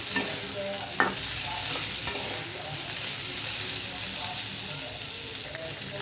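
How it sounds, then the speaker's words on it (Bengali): Jackfruit fries lightly in a pan with a continuous hiss and sizzle, broken by occasional scrapes and stirring knocks, close and fairly loud, with a faint voice briefly in the background. "আমি হালকা করে কাঁঠালটাকে একটু ভেজে নেব।"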